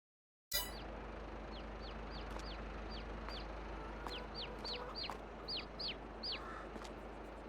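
Many chickens in Farming Simulator 22 cluck and squawk repeatedly in short bursts over a constant low ambient hum, the calls overlapping and scattered across the scene.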